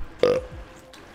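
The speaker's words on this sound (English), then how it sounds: "And I'm sorry if I burp." A single loud, throaty burp rises abruptly and fades within a fraction of a second, close to the mic during a Minecraft livestream, followed by quiet room tone.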